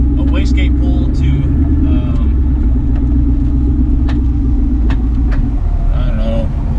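A 1200+ hp Ford Mustang running a stock computer roars with a loud, steady low rumble throughout, its engine droning without clear pauses, with faint voices mixed underneath.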